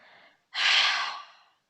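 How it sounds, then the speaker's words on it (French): A loud, forceful exhalation through the mouth during a yoga breathing exercise, preceded by a softer breath and fading into silence. "Bloquez votre respiration et venez expirer bruyamment"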